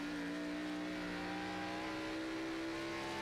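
Race car engine heard from on board during an auto racing event, a steady loud drone holding near-constant pitch throughout, with no talk.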